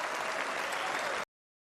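A crowd at a Trump rally with Hulk Hogan roars and applauds in a dense, steady wash of clapping and cheering that cuts off abruptly after a little over a second.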